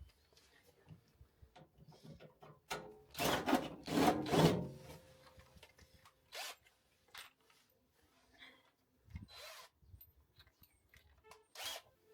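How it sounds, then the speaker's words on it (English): A few short, rough bursts of a power drill driving self-tapping screws into wood while rebuilding the rear of a Ford Fiesta ST, with quieter handling noises and pauses between them. "Now I'm literally drilling in these self-tapping screws"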